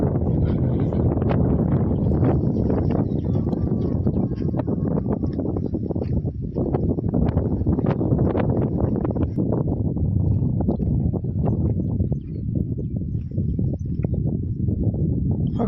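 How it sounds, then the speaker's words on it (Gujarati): Gusty outdoor wind sweeps over a hilltop, hammering the microphone with a sustained, uneven roar and bursts of rustling over several seconds. "પવન હમણાં બહુ આવે છે"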